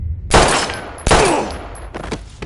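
Gunfire in the video game Life is Strange: two loud, sharp shots about a second apart, each ringing out with a decaying tail, followed by a couple of fainter bursts near the end.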